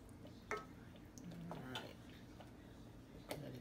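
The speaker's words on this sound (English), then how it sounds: "Let's give it a stir." Marinara sauce is stirred in a pot on low heat, with a utensil scraping quietly and a few sharp clinks against the pot, all faint and fairly close.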